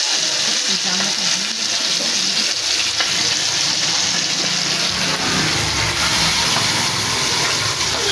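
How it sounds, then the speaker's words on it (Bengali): Pieces of rui (rohu) fish fry in a pan over high heat at home, giving a loud, steady sizzling hiss that continues throughout, with faint clatter beneath it. "জোরে দিয়ে দিই, নাহলে মাছটা ভালো করে ভাজা হবে।"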